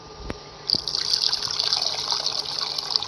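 Tamarind water is poured into a fish curry in a pot: after a couple of knocks, a steady close gushing pour runs to the end.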